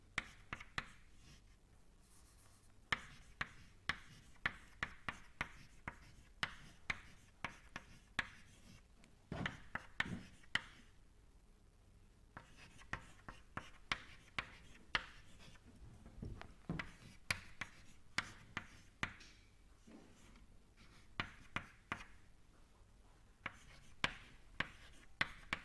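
Chalk tapping and scraping on a board as equations are written out in a lecture, a steady run of quick faint ticks and strokes close by with short pauses, no talk.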